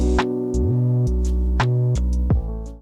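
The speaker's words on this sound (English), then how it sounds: "we added in that piano from the intro yet again" A lo-fi piano part in an FL Studio track plays a slow sequence of warm, sustained chords. The changes come at regular intervals over a deep low tone, with soft clicks between them, and the sound stays close and steady.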